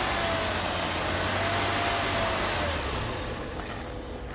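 A Mercedes ML350 engine runs steadily at elevated revs during foam engine cleaning, a broad continuous drone heard up close with no talk, easing slightly toward the end.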